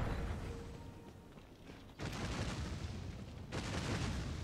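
Explosions and rumbling blasts from the fantasy action video game Dragon's Dogma Dark Arisen on PC, a loud sustained roar that surges sharply twice and stays dense and continuous throughout.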